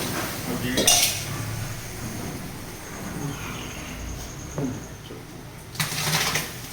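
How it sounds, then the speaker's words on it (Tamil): Biryani masala stirred in a large pot with curd and tomato: a few metallic scrapes and clanks of a ladle against the pot, separated by quieter gaps with faint background noise. "ஓகே, கிண்ட ஆரம்பிங்க"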